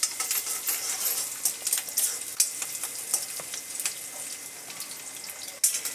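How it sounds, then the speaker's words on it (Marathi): Garlic, ginger and green chili hiss and crackle in hot oil with a bright, spitting sizzle and frequent small pops, close by and unbroken, with a sharp clink near the end. "आता आपण टाकत आहोत लसण, अद्रक, मिरची टाकत आहे."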